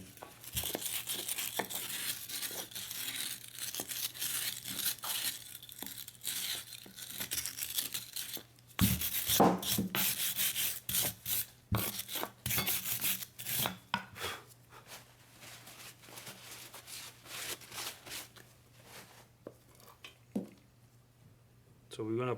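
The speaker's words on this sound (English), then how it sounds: "We're going to clean the bore where the bearing sits." A steering knuckle's bearing bore on a Nissan Murano is scrubbed clean, with close, uneven rasping and scraping strokes in bursts, some louder in the middle, over a low steady hum.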